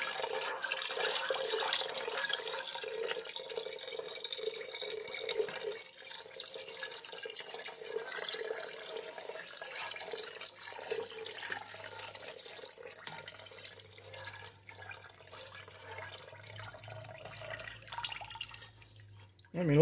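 Liquid poured into a pot of loaded potato soup while it is stirred, a steady close trickle and splash with faint clinks, ending in a few lower stirring sounds.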